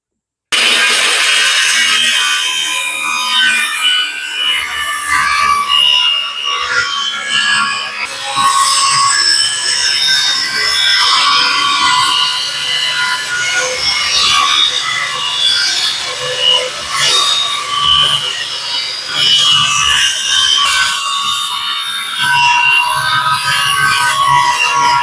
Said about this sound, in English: we are now beginning to cut through this material